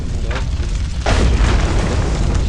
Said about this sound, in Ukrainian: бачите, багато бочок є, які вибухають